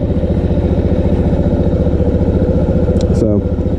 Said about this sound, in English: Okay, the engine has warmed up.